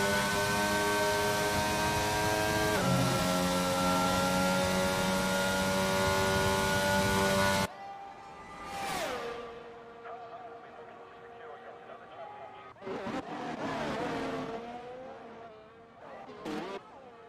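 A race car engine from a racing video game, lapping the Baku circuit, holds a loud, steady high-pitched whine, then drops away into quieter passes and shifting engine notes with brief surges.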